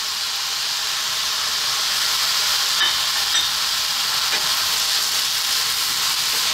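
Pork sausage fried rice with soy sauce and hot dog is stirred in a hot pan, producing a loud, even hissing sizzle with a few faint scrapes and clicks of the utensil.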